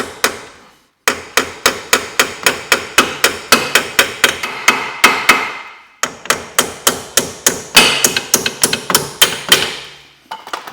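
A hammer strikes a bolt through a Vauxhall Corsa C wishbone in two long, steady runs of loud metallic blows, about three per second, with a short pause between the runs.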